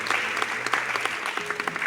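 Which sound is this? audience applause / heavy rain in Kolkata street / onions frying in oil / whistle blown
audience applause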